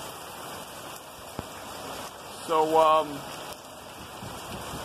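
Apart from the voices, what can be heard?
rain storm in Queens, New York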